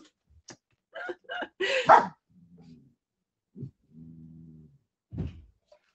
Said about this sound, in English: My dog, guys. He's really loud and obnoxious.